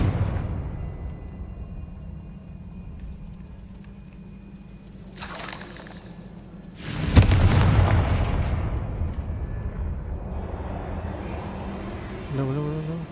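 The Confringo explosion spell in Hogwarts Legacy sets off a sharp blast with a booming, rumbling tail after a brief whooshing buildup, set against ambient game music, with a spoken voice in the scene.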